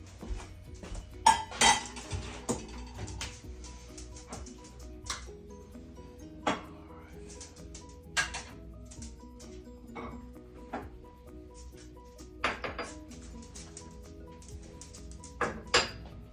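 Cookie dough is mixed in a bowl with a utensil, giving irregular clinks and scraping knocks against the bowl between quieter stretches, close up with no talking.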